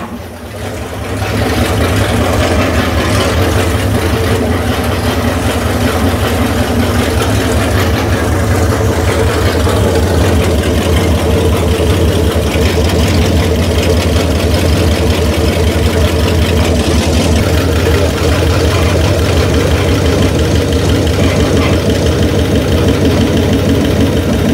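A 360 Magnum V8 on a run stand, freshly started off temporary ignition wiring, runs loud and steady for the whole stretch, a close, continuous low engine rumble with no voices over it.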